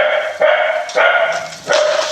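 A pet dog barks in a household where a game is being recorded, giving three sharp, loud, close barks at roughly even intervals, each trailing off before the next.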